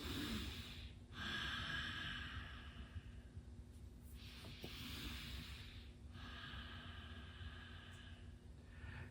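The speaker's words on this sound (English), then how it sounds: "2 more breaths." Deep, slow breaths during a seated yoga twist, long airy inhales and exhales repeating at a relaxed pace, close and soft against a faint steady background hum.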